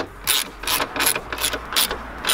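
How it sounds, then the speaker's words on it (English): A ratchet wrench tightens a T40 bolt on a BMW F30 N55 intake, giving about six crisp bursts of rapid pawl clicks in a steady back-and-forth rhythm, close and fairly loud. "Then you can ratchet it down."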